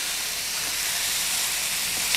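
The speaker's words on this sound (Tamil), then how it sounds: "நல்லா வதக்கி விடுங்க" Chicken pepper masala with ginger garlic paste and green chillies sautéing in a pan, giving a loud, continuous hissing sizzle close up, steady from start to finish with no talking.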